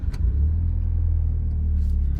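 A 2005 Mitsubishi Evo 8 rumbles close by as it pulls away, a steady deep engine drone filling the short moment with no talk.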